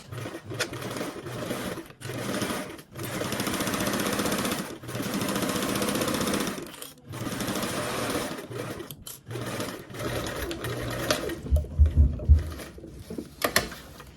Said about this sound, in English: we're going to go ahead sewing across the top edge with a 1/4 seam allowance